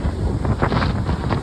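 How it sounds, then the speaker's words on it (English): High wind roars across the microphone on a beach during Veterans Day storms, as waves break against sea walls and rocks in a loud, continuous, churning wash. "the waves hitting all these walls and rocks down here"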